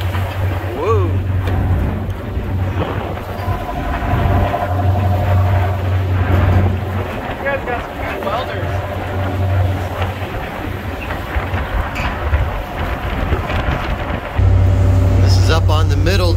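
Strong wind buffets the middle deck of a ship at sea during a spacecraft recovery mission, a loud, steady roar with rumbling low gusts throughout and a harder blast near the end.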